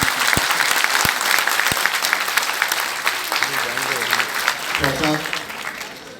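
An audience at an Urdu conference of the Arts Council of Pakistan breaks into sustained, dense applause, a hall full of clapping that fades slightly near the end while voices murmur underneath.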